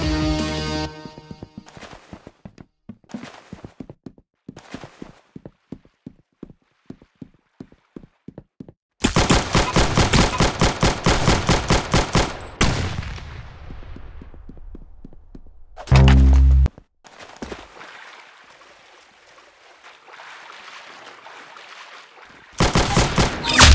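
Gunfire in a shooting video game comes as rapid bursts of sharp, loud shots. Long automatic strings alternate with single cracks and short pauses, with no voices.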